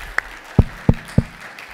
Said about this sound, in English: let's clap. This is a great job.